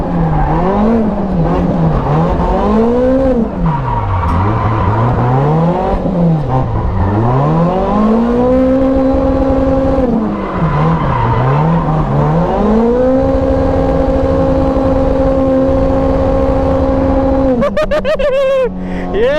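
A supercharged Toyota AE86 drifts at a grassroots event with a green 350Z chasing, its engine revving hard in rising and falling sweeps and settling into a sustained high drone, loud and close, ending in a burst of clattering pops.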